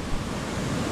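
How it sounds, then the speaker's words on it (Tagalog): Large ocean waves crash and break on the shore in a continuous, loud, broadband roar with wind noise over the microphone and no voices. "Napakalaki ng alon."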